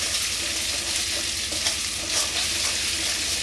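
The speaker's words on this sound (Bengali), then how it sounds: "এবার আমি এটা দিয়ে একটু নাড়তে থাকতে হবে মশলাটা যতক্ষণ অবধি ভাজা হচ্ছে" Ginger and chilli paste sizzles steadily in a hot pan while a utensil stirs it, producing close, continuous frying hiss with soft scraping.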